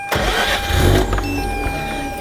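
A Mazda RX8 rotary engine cranks briefly and catches, rising to a loud burst before settling into a steady close idle, alone without voices.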